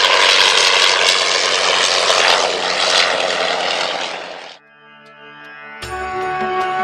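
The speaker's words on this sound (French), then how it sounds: "Le 25 juillet 1909, Louis Blériot traverse la Manche." An early propeller aircraft engine from Louis Blériot's 1909 Channel crossing roars loudly and steadily, then fades sharply and gives way to sustained tonal music.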